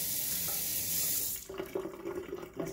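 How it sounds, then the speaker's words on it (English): A kitchen tap runs loud and steady for about one and a half seconds while hands are washed, then stops, leaving soft splashing and sink clatter. "I'm going to wash my hands since I licked it."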